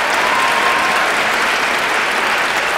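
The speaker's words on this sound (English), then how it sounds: "Keep that applause going," Steady, dense applause from an audience at a poetry slam, cheering a poet after her scores are read out; the clapping is loud and continuous with no break or voices over it.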